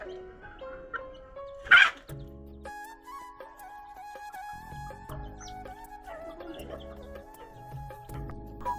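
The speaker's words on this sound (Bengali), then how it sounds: "মুরগিগুলোকে আমি ছাড়লাম, ওদিকে খেতে দিলাম, ওরা চাল খাচ্ছে।" Free-roaming chickens cluck while pecking at scattered rice, with a sharp loud squawk early on among tonal, musical sounds and other background noise.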